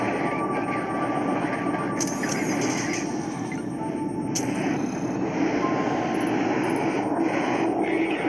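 Warplane jet engine in the mobile combat game Modern Warplanes during team deathmatch, a constant loud roaring drone with occasional sharp interface clicks and bursts layered on top, no talking.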